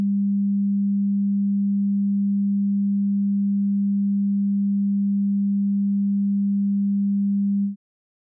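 A pure low 200 Hz sine test tone holds perfectly steady and unwavering for roughly eight seconds before stopping abruptly, with nothing else audible.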